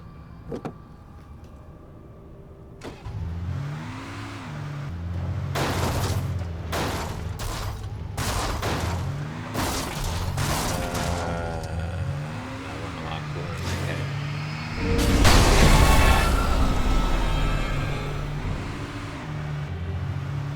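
A battered car driving in Alan Wake Remastered, its engine droning and shifting pitch in steps as it revs, with a loud rushing surge partway through; someone talks intermittently over it.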